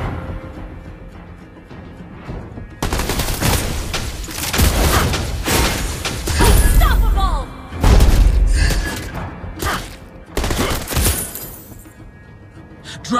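Video game gunfire from a Clint build comes in heavy bursts of booming shots and sharp cracks, with quieter gaps in between and game voices calling out over the action.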